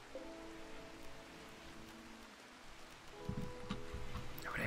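Soft, steady patter of rain in a video game, a faint continuous hiss under low sustained tonal game music.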